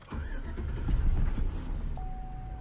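A 2006 Chevy Silverado with a 5.3 liter engine and its check engine light on cranks and catches, turning over loudly and settling into a steady idle, with a thin electronic tone coming in near the end.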